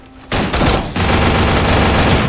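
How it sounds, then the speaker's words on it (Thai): Loud, dense burst of automatic gunfire from the mobile battle royale game Free Fire, a rapid stream of close shots aimed at the head that starts abruptly and keeps going without a break. "เนี่ยเสียงเสียงแบบ เสียงยิงหัวแน่นๆอ่ะ"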